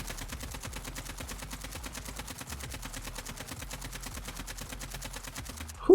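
Sustained automatic fire from an AK47 in Call of Duty Warzone, a long, rapid, even stream of shots emptying a 70-round magazine, steady and unbroken until it stops near the end.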